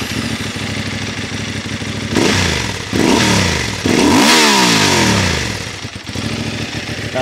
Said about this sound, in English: Let me start the bike.